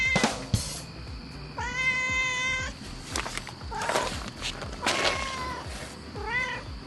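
A house cat meows several times, with drawn-out, wavering cries spaced a second or so apart against quiet indoor background noise and no talking.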